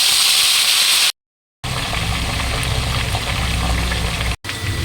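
Marinated chicken sizzles in hot oil, a loud, dense frying hiss that cuts out briefly twice, with no talking.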